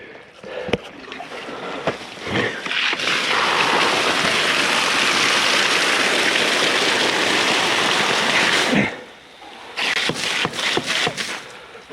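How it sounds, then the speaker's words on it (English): Water flushing hard through the line of a Hagie STS 12 sprayer, a dense rushing hiss that starts after some knocks, runs steadily for several seconds, then cuts off abruptly, followed by scattered clanks. "Ooh, I hear water."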